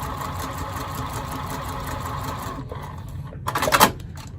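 A sewing machine set to a very short stitch length runs with a close, even, rapid whir for a few seconds, then stops, followed by a brief burst of handling noise.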